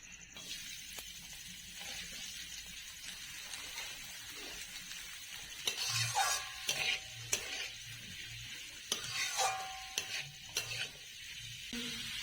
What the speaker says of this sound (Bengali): ওই তেলে এবার আমি গাজরটা ভেজে নেব।